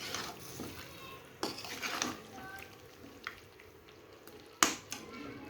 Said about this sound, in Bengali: এখানে কিন্তু ভালোভাবে কষাতে হবে, আস্তে আস্তে কষাতে হবে, তাড়াহুড়া করলে হবে না।